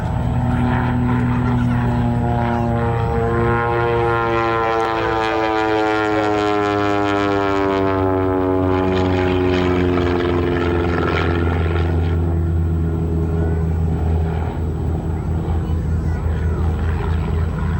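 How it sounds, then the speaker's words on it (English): An aerobatic homebuilt propeller airplane flies a knife-edge pass at the Cranbrook Airport air show. The loud engine note rises and then falls as the plane sweeps past the listener, and the steady drone continues afterward. "Now this is called a knife edge pass."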